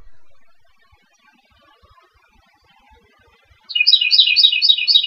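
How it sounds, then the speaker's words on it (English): Bird chirping outdoors, a bright burst of rapid repeated tweets starting suddenly after near silence and continuing loudly to the end. "I hear a bird."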